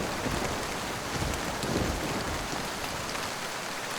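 Heavy rain pours steadily in a cartoon sound effect, a dense, constant hiss of drops with a faint low rumble beneath, loud and close throughout with no voices.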